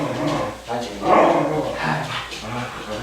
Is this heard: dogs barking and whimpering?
yes